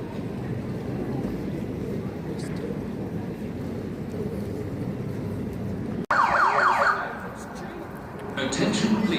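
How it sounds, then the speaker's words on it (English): Evacuation sounders at Birmingham New Street station go off during a fire alarm test, a loud repeating electronic tone cutting in sharply over steady concourse crowd noise and echoing station ambience. "we're now going to conduct a test of the evacuation sounders"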